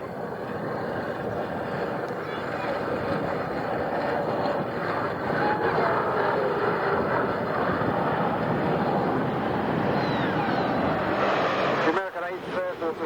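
The B-17G bomber Sally B flying past at an airshow, its piston engines giving a loud sustained roar that swells and holds, with a commentator talking over it and the noise dropping away at the end.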